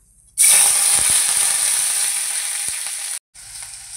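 A loud, steady sizzle of chillies and leaves hitting hot oil, starting suddenly, crackling continuously for a few seconds, then cutting off briefly before resuming quieter.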